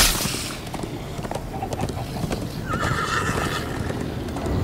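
A horse in the game Minecraft Story Mode gallops with steady clip-clopping hooves and lets out a loud whinny partway through, close and clear over a busy background.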